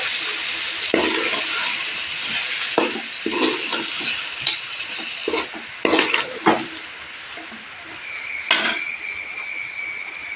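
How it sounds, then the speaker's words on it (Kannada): Ground tomato tipped into a pan of mutton fry and stirred, with wet sizzling and a run of spoon scrapes and clanks against the pan at close range, no voices. "ಹಾಗೆಯೇ ಇವಾಗ ರುಬ್ಬಿರೋ ಟೊಮೊಟೊ ಹಣ್ಣನ್ನ ಹಾಕ್ತಾ ಇದ್ದೀನಿ."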